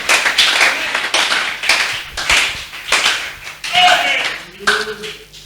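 A church congregation cheers and claps for the Lord Jesus in a burst of overlapping voices and hand claps that swells and dips in waves, loud and close, with a few tonal shouts toward the end.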